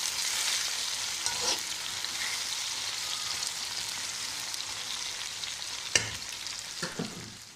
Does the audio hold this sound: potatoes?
yes